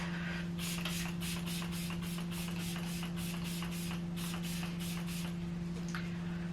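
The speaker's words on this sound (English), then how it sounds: "we're going to finish off this whole makeup look with the Professional Super Setter spray" A pump bottle of Benefit Professional Super Setter makeup setting spray gives a quick run of about a dozen short, soft hisses in a quiet room with a low steady hum behind.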